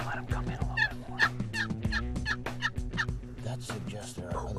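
Several wild turkey gobblers in Kansas gobble repeatedly in loud, rattling bursts, their calls overlapping across the whole stretch against a low background hum, with no voices heard.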